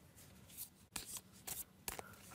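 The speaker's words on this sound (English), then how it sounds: "just shuffle them a little bit" A small deck of exercise cards is shuffled by hand, several quick papery riffles and slides in short bursts, close and fairly loud against a quiet room.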